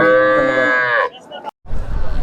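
A cow gives one long, loud, close moo at a village cattle market in Hazratpur, followed by a short pause and then low rumbling market background.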